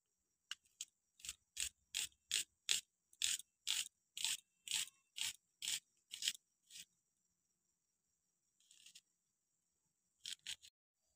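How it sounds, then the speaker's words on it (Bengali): Rapid knife strokes finely chopping two onions on a cutting board, a steady run of about fifteen crisp, close taps, a short pause, then a few more chops near the end with no talking. "আমি এবার পেঁয়াজ দুটোকেও কেটে কুচি কুচি করে কেটে নেবো।"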